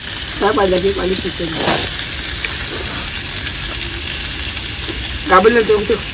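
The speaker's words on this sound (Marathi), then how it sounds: "हे पाणी टाक." Water poured into a pan of sizzling fish curry gives a broad hiss and bubbling sizzle lasting throughout, with voices talking briefly near the start and again near the end.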